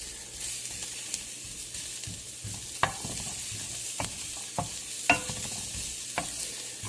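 Garlic and bacon sizzle steadily in a pan for a ragu, with a spoon scraping and stirring in a handful of distinct knocks over the continuous hiss; no voices.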